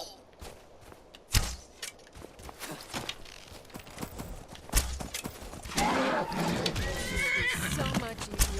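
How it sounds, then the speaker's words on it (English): In Skyrim, a horse clip-clops with scattered hoof thuds, then gives a loud, drawn-out whinny near the end over a busy game backdrop. "The horse just ran right up to you"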